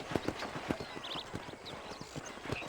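Horse hooves clip-clopping at a steady walking rhythm in the Red Dead Redemption video game, close and fairly loud, with a brief faint high whinny-like tone partway through.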